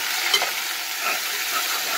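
Sliced onions and whole green chillies sautéing in a pan for eggplant biryani, giving a steady, close hiss of frying with a faint stirring scrape, no voices.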